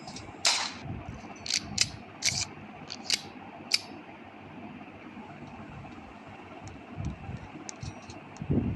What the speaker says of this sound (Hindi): यस बंदूक।